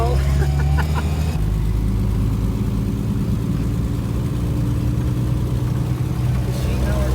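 A 1930 Nash 420 Standard Sedan engine hums and rumbles steadily from inside the antique car as it drives, a dense, unbroken low drone with road noise that never lets up.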